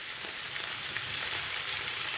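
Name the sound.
mackerel fish frying in pan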